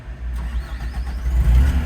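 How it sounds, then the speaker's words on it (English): An 8MCR excavator engine cranks and catches, its low, close rumble building and settling into a louder, heavier running sound by the end. "so we'll turn the engine on"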